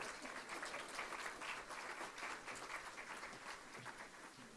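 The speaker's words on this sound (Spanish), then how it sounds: "Les brindamos un aplauso." Sustained applause from an auditorium audience for the panelists at a legal forum, a steady dense wash of clapping at moderate level throughout, with no voices rising above it.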